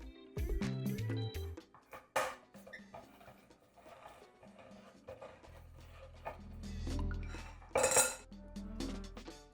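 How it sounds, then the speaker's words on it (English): Cans of chickpeas being opened in a kitchen, with irregular metallic clicks, clanks and scraping, a few louder knocks, and a low rumbling stretch near the end, all close with no voices. "Next, open the cans."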